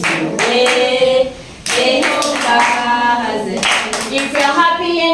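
People clapping hands along with singing at a child's birthday party, rhythmic bursts of claps mixed with voices singing, loud and close, with a brief lull near the middle.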